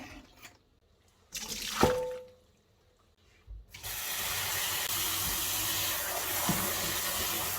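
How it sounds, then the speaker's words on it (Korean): Running cold tap water rinses blanched wild mustard greens in a kitchen sink, starting with a few splashes and handling clatter before a steady, fairly loud stream of water flows for several seconds. "찬물에 한번 헹궈주고"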